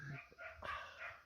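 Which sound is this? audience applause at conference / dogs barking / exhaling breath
dogs barking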